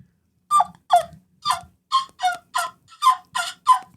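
A hacksaw turkey mouth call imitates a turkey, giving a clear series of about ten raspy, evenly spaced yelps, loud and close, with brief silences between them.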